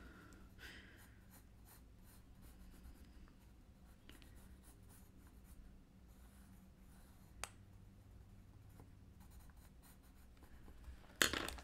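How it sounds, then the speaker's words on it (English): Pencil from a Mitsubishi set sketching eyeballs on paper, a faint, steady scratchy scribble with short strokes, alone and quiet, ending in a brief louder knock near the end. "Drawing eyeballs, my favorite."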